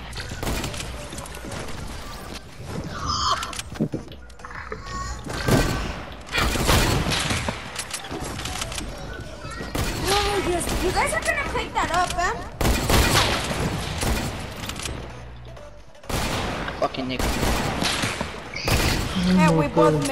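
Hunting rifle shots in a game of Fortnite ring out in bursts of sharp gunfire and booms among crashes, interleaved with players talking throughout.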